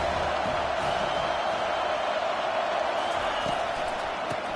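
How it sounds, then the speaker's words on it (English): A college football stadium crowd at Penn State vs Miami roars on third down, a loud, dense, sustained wall of cheering that holds steady throughout. "Decibels rising as the crowd gets behind this defense on 3rd down."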